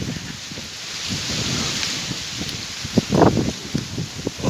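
Strong pre-storm wind rushes through coconut trees in a steady broad roar of rustling leaves, swelling into louder, gustier bursts toward the end.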